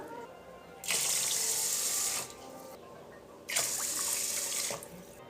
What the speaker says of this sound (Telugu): శుభ్రంగా వాష్ చేసుకున్న రైస్లో 3 గ్లాసులు వాటర్ వేస్తున్నాను